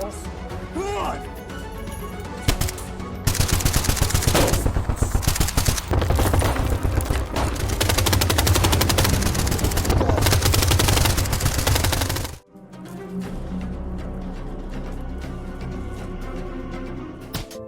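Film gunfire erupts as a shop guard is shot: a few scattered shots, then a dense, loud burst of rapid automatic fire for about nine seconds, ending abruptly and followed by quieter background sound.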